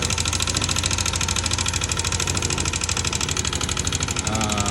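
A Yamaha Aerox 155 scooter engine idles steadily up close with a rapid, rattling knock ticking through the running noise.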